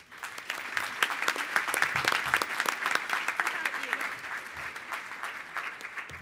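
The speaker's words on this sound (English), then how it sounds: "Please give them a round of applause" Audience applause fills a hall at the Beautiful Bakersfield Awards 2016 ceremony honouring a youth group: dense, steady clapping from many hands, loud and sustained for about six seconds with some voices mixed in.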